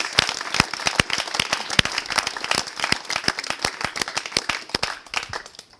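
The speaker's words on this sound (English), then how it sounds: "I'd like a huge round of applause for everybody that gets up here and gets a certificate tonight" An audience at an evening certificate ceremony applauding, dense overlapping claps from a small crowd, lively and close, tapering slightly at the end.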